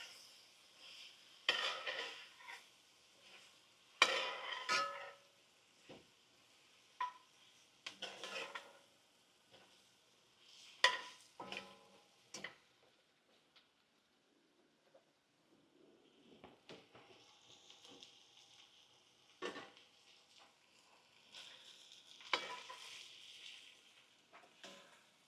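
A spoon scrapes and clinks against a pan while flour cooks into a roux, with intermittent stirring strokes and a soft, quiet sizzle underneath.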